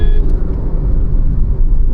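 A Toyota Urban Cruiser Taisor's 1.0-litre turbo engine pulls hard with a manual gearbox, a loud, steady low cabin drone and rumble running throughout with no talking.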